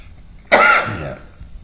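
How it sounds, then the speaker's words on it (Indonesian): A single sharp, close cough bursts out loudly, followed by a brief rasping tail before fading back to quiet. "Maaf ya, batuk."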